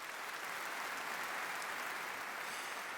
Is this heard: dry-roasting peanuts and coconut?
no